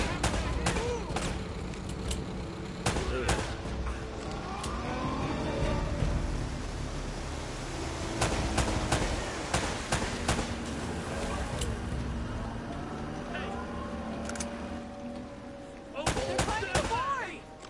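Frequent bursts of gunfire ring out in a combat scene from the video game Uncharted: Drake's Fortune, with sharp shots scattered over a dense bed of game sound and music, while characters talk over the action.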